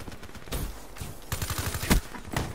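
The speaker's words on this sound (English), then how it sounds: "I low-key shot him by accident." Rapid pistol and automatic gunfire in a first-person shooter video game, several sharp bursts with a loud cluster near the end, no talking.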